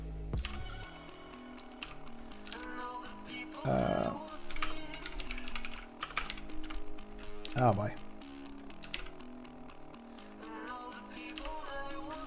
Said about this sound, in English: Why am I not typing right?